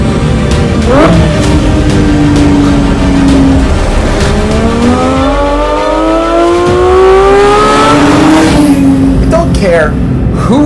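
A 2025 Porsche 911 engine revs hard toward 9,000 RPM, its pitch climbing and falling in loud sweeping pulls over several seconds, with a person talking over it throughout.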